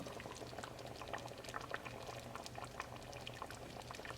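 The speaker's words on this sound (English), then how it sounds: "We're going to let it simmer for 1 hour." Beef stew with mushrooms simmers in a covered pot, giving a continuous soft bubbling and popping, close but faint, steady throughout with no voices.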